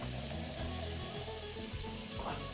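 Tap water runs steadily into a sink in a home kitchen, a continuous close hiss with some clatter, while vegetables cook nearby.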